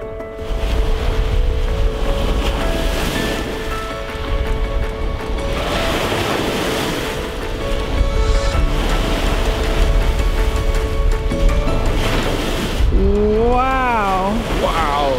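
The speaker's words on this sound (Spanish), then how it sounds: "el ruido de las olas. Esto parece como un mar más que un lago." Waves wash in surging rushes along the shore of Lake Fagnano under gusting wind, with people talking nearby and a steady mechanical hum in the background.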